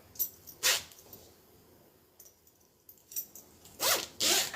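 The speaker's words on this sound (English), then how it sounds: "Gonna add my zipper pull." A zipper pull is worked onto the zipper of a handmade bag, giving several sharp zipping rasps close up, two early and two at the end, with quiet pauses in between.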